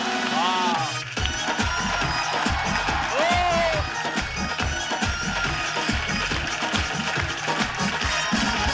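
A studio audience on a TV comedy show claps and cheers loudly to welcome comedian Raju Srivastava, a dense, steady wash of applause lasting several seconds, with some whooping and background music.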